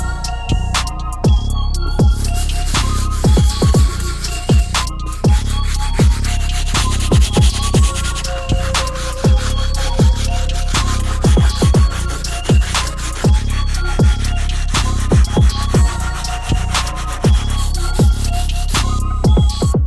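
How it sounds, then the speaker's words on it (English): A stiff bristle brush scrubs the rubber outsoles of an Air Jordan 2 sneaker. The scrubbing is steady, loud and close, a rasping sound with rapid repeated strokes, continuous for about twenty seconds with no talk. "Now we're going to move on to our last brush, which is our stiff bristle. We'll use this brush to take care of these outsoles."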